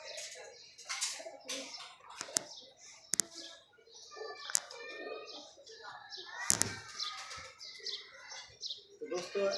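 Several domestic pigeons coo and flutter close by in a rooftop loft, soft repeated cooing mixed with chirps and a few sharp wing claps, with people talking throughout.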